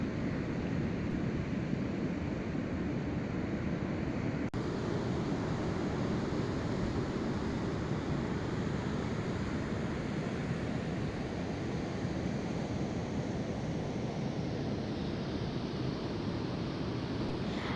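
Steady surf rolls onto an empty Hanoville beach, a constant broad wash of waves heard at moderate distance with no voices, holding evenly throughout.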